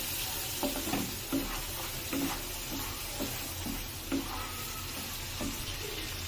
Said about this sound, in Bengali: এ পর্যায়ে আমি মাছের মাথাগুলো দিয়ে একটু নাড়াচাড়া করে নিব।